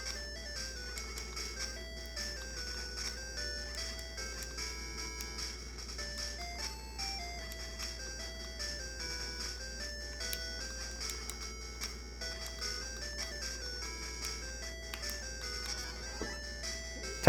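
Tetris game music playing on a ModRetro Chromatic handheld, a bright, bleepy chiptune melody of short stepped notes that runs steadily and evenly throughout.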